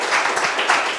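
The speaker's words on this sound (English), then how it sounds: "So round of applause, please," An audience applauds at a natural climate solutions session: dense, steady clapping from many hands, fairly loud and close, with no clear voices over it.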